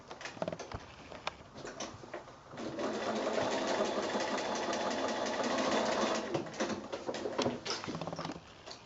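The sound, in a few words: sewing machine stitching across fabric corner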